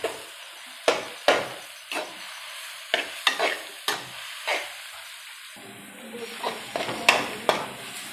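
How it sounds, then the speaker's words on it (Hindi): Grated pumpkin roasting in ghee for kaddu halwa, with a spoon knocking and scraping against the pan over and over, close and fairly loud, and a soft sizzle in the pauses between strokes. "तो अभी ये जो कद्दू है कि इसको भूनेंगे यहाँ पे घी के साथ।"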